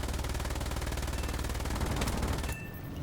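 Rapid aircraft machine-gun fire from a Do-217 N-1 bomber in the War Thunder combat game rattles in one continuous burst for about two and a half seconds, then cuts out abruptly.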